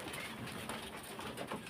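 Pigeons for sale at a market in Beldanga, big-sized birds with numbered leg tags, cooing softly and continuously over a steady background hum, with no talk.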